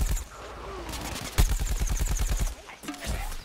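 Rapid gunfire from the foot soldier's gun in the video game Plants vs. Zombies Garden Warfare: a fast, steady stream of many shots per second, loud and close, with a short pause and a resumed burst near the end.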